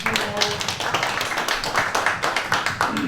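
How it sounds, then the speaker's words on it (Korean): Audience applause at a Sony camera launch event in Apgujeong, Seoul: loud, dense clapping from a crowd, close and continuous, with a few voices mixed in. "큰 박수 부탁드립니다"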